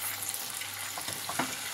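Diced, peeled tomatoes hit hot oil in a pan, giving a steady broadband sizzle with a few stirring clicks toward the end, close and moderately quiet, with no one talking.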